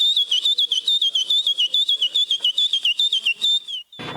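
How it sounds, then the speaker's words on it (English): Loud, shrill human whistling in a rapid run of repeated warbling notes, close and piercing, ending abruptly with a brief thump. "He can whistle louder than any human ever should."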